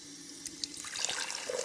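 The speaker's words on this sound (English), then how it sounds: "refilled her glass with water" Water runs from a kitchen sink tap into a drinking glass with a soft, steady, fairly faint pour and no voices.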